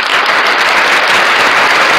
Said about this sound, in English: Let's give them an applause.